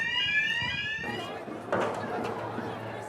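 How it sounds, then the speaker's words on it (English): A high, steady burglar alarm from a broken-into shop rings for about a second, then gives way to a noisy street scene after rioting, with scattered clatter and distant voices. "there was just the sound of the alarms in shops that had been broken into"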